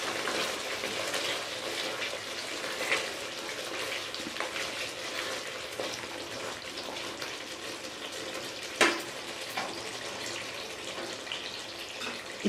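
Spoon stirring kasuri methi through chicken malai curry in a handi, a dense continuous bubbling sizzle with scattered clinks and scrapes against the pot, close and fairly steady, no voices.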